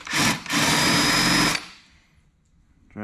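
Power drill fitted with a countersink bit cuts into a rivet hole on an aircraft panel for a Zenith Super Duty kit build, giving a loud, close whirring burst with a brief dip, then stopping into quiet.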